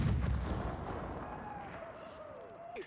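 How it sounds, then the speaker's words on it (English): A deep, rumbling film explosion, a taco truck blown up with a bazooka, opens loudly and fades into a long decaying roar, with a whistling streak and a small pop near the end. "she notices some massive explosions going off"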